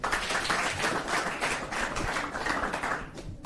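An audience applauds a student performer after a Swahili poetry recitation at a secondary school, steady dense clapping sustained throughout, close and fairly loud before tapering at the end.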